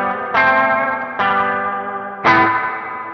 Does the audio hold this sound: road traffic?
no